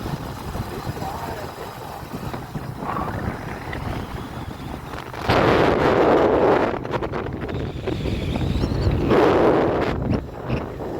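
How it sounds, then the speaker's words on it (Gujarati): Cool midday wind at Daman beach buffets the microphone steadily, swelling into louder gusts midway and again near the end, with a faint background hum throughout. "એ ઠંડો ઠંડો પવન આવે, બપોરની પવન હો બાકી"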